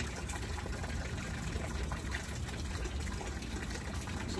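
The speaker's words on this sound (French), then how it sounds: "J'espère que tu entends l'eau couler." Steady, even wash of flowing water held at a constant level throughout, soft and continuous like a running stream or tap, with no voices over it.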